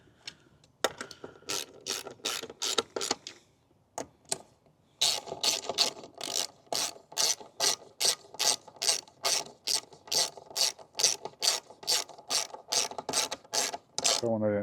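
A ratchet clicks in quick rhythmic strokes while tightening the seat bolts during a manual-to-power seat swap, loud and close, with one brief pause early on and then a long unbroken run of strokes.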